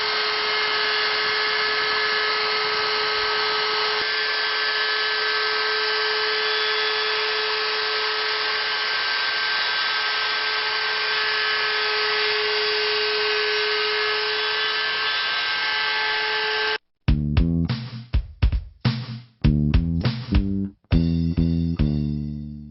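A router fitted with a straight flute bearing bit trims a laminate countertop, first as a steady high-pitched motor whine, then as a string of loud, choppy bursts as the cut starts and stops near the end.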